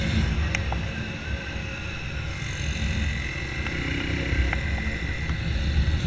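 A Honda Fan 160 motorcycle with a tin exhaust holds a loud, steady engine note with slight rises in revs, running nearby throughout.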